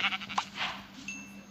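Sheep bleat in the Minecraft video game in a few short, clear cries close together, with a faint thin tone trailing at the end.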